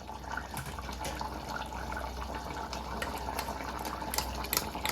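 Ground coconut paste being poured into simmering chicken gravy in a home kitchen, giving a steady soft liquid pouring and bubbling wash with small splashy flickers, close and continuous throughout, no voices.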